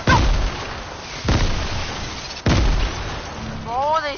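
Grenades burst in a Fortnite match: three loud, close booming explosions land about a second apart, each with a rolling decay, and a voice cuts in briefly at the end.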